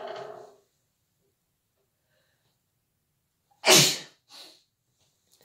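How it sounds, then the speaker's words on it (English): A single loud sneeze breaks a quiet stretch, preceded by a breath and followed by a softer sniff; a brief murmur comes at the start. "excuse me, I have to sneeze."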